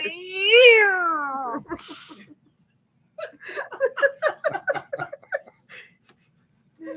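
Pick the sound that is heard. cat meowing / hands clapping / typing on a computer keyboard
cat meowing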